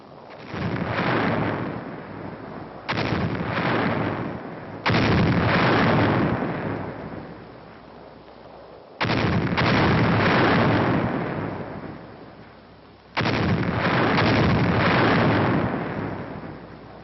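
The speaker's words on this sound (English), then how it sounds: "Final shelling of the town is directed by the 7th Field Artillery Observation Battalion." Heavy artillery shelling of the town of Metz directed by a field artillery observation battalion: several loud, rumbling blasts, each sustained roar lasting a few seconds and separated by brief lulls, with no voices.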